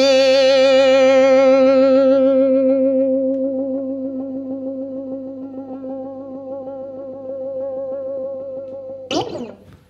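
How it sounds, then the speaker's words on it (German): Distorted electric ukulele plays a sustained rock riff, thick harmonic chords ringing loud at first and slowly fading and shifting in tone, then a sharp pick or string attack near the end. "dadurch, dass wir mit der Verzerrung sehr, sehr viel Sustain haben und sich der Sound so auch so langsam mit der Verzerrung verändert, klingt das richtig fett"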